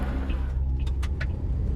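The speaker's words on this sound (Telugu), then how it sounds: "ఇదేంటి మన కారు స్లో అవుతుంది?" A car running out of petrol gives a low, steady engine rumble as it slows toward stalling, close and without any voices.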